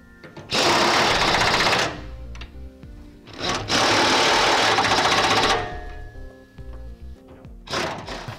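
A power tool tightens the bed bolts on a 2005 Chevrolet Silverado during a gooseneck hitch installation, three loud close bursts of whirring rattle, the longest in the middle, separated by short quiet gaps with light clunks.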